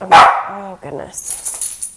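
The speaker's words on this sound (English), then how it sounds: "Excuse my dog." A dog barks loudly indoors, a sharp close bark followed by a couple of shorter yips, while a person speaks briefly over and after it.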